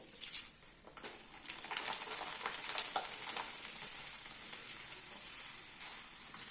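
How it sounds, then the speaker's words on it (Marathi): Maize poha flakes fry in hot oil for a Diwali murmura chivda, a steady faint bubbling hiss with light crackles and soft scraping, fairly distant and quiet throughout. "आता गरम झालेला आहे त्याच्यामध्ये आपण थोडं थोडं टाकून तळून घेऊया"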